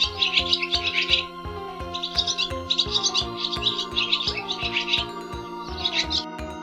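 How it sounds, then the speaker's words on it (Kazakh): Swallow chirping in quick bursts of bright twittering calls, repeated several times close to the microphone over a steady low background. "Қарлығаш."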